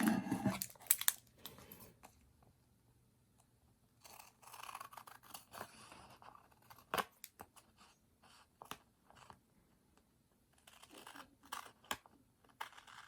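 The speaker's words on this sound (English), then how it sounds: "I'm just gonna cut off any excess here" Scissors trim excess paper from a planner tab, with quiet snips and rustling handling noises at close range in a mostly quiet room.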